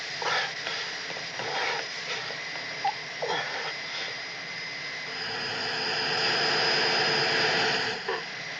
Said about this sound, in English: Gotta cut the engines